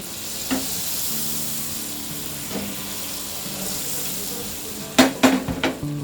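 A tablespoon of butter melts in a hot pan with a soft, steady sizzle, a couple of faint taps early on, then a quick cluster of sharp clinks near the end, without any talking.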